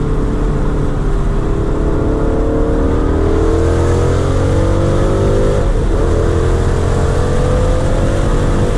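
Mustang GT 5.0 V8 with loud exhaust, heard from inside while driving, revving and dropping through downshifts with rising and falling engine pitch, loud and close throughout.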